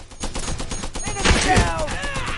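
Video game gunfire in rapid bursts, several fast overlapping shots crackling close and loud over about two seconds, with sound effects ringing under them.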